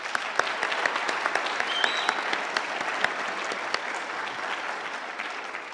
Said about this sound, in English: I think they deserve another round of applause